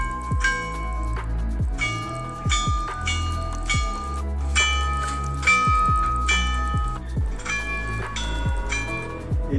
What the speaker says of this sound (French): vous voyez à côté les anciennes cloches, donc pour chaque direction une cloche